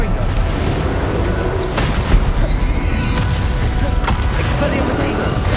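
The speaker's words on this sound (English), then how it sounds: "Confringo." Confringo spell blasts in the Xbox One game Hogwarts Legacy: a heavy, continuous booming roar punctuated by several sharp crackling hits, with a brief whooshing sweep midway.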